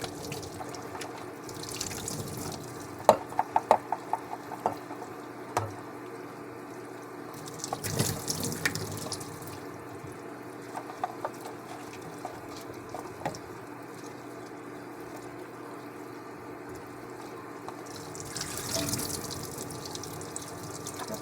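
Tap water runs steadily into a kitchen sink during dishwashing, with scattered clinks and drips of dishes over a continuous wash, a few louder splashy bursts rising and falling across the stretch.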